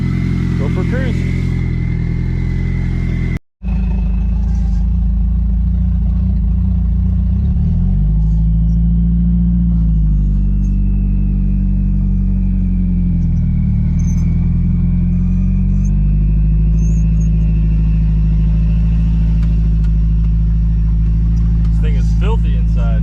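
Bodydropped Toyota minitruck with a turbocharged 22RE engine drives steadily, its low engine drone continuous and close throughout, with a brief dropout early on and a short rise in pitch midway; no talking over it.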